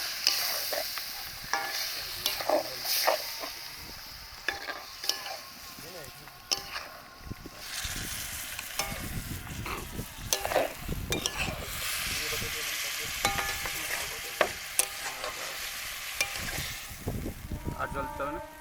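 Mutton being stirred and sautéed in a pan, giving a steady close sizzle and frying crackle with the scrape and clink of a spoon as it's turned, continuous throughout.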